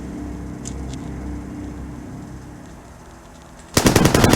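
Gunfire erupts abruptly near the end as a loud, dense burst of rapid shots, following a stretch of low rumbling background in a documentary about the SAF 44 operation.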